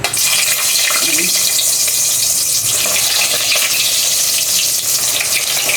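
A hotdog fries in hot oil in a heated pan, a loud, dense, continuous sizzle and crackle filling the whole stretch without voices.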